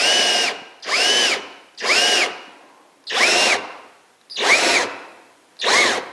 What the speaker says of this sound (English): I'm going to enter quickly using the spade bit